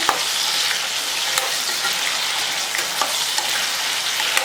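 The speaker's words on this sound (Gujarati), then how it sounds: "ત્રણ થી 4 મિનિટ સુધી આપણે તેલમાં જ આમ જ આ સબ્જીને ચડવા દેવાની।" Diced potato curry cooks in oil in a pan, a steady bright hiss of frying with soft, occasional stirring taps, even and moderately loud, with no voices.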